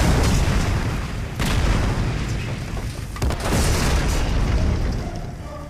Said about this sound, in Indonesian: penjara tempat Riaz Hafiz ditahan diserang dengan bom